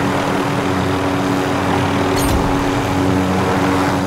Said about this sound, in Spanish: Vámonos, helicóptero.